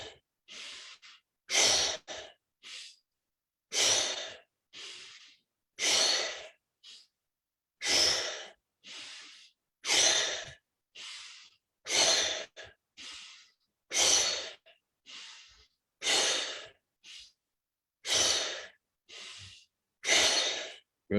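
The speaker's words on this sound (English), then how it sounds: "Good, one last time, breathing, here we go, and go. Breathe in, out," Slow, deep breathing exercise from a guided session: about fifteen evenly spaced, close breaths in and out, each a full airy rush with short silent gaps between, and no other sound.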